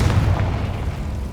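A deep, booming fire-blast explosion from the Confringo spell in Hogwarts Legacy, one heavy low burst that rumbles and fades quickly.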